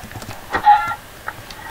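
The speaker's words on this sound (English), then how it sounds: "I'm going to kill these chickens and eat them." Chickens in the video game Minecraft give a short, soft clucking burst, a single brief call over a quiet background.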